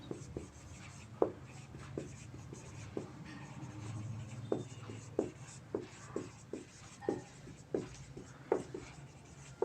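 Writing during a physics lesson on interference gives a series of soft, quick scratching strokes, irregular at first and then coming in a fairly regular run, close and faint.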